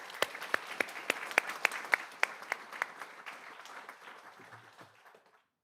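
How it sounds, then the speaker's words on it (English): Applause for social studies teachers at a school board meeting, a burst of crisp clapping from a crowd that peaks quickly, then thins and tapers away over several seconds. "join me in one more round of applause for these teachers"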